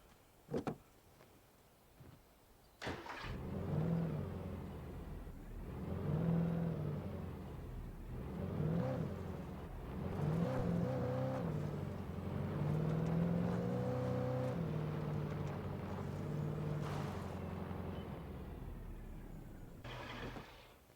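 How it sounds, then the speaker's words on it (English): Car driving in the video game Alan Wake: an engine hums and rises and falls through several revving swells over about twenty seconds, steady and fairly close, with a few clunks at the start and end. "Oh, this is the car from the dream."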